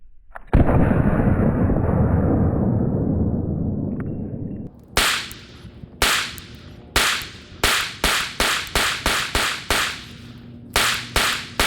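Glock 19 pistol fired at a shooting range: a rapid string of about a dozen loud, sharp gunshots with short uneven gaps, following a stretch of steady broadband noise.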